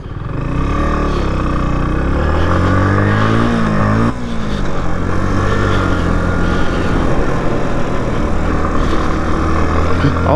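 A 2023 CFMoto Papio motorcycle pulls away and accelerates hard, its engine note climbing through gear shifts, loud and close with a steady roar and a brief dip between gears.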